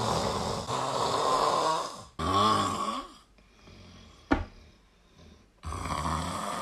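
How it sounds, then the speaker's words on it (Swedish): A man snores loudly in repeated long, rasping breaths with quieter gaps and a sharp knock in between, close and with no talk. "han snarkar jävligt mycket"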